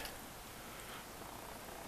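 A black polydactyl cat purrs close up, a steady continuous rumbling hum that holds evenly for the whole stretch with no voices.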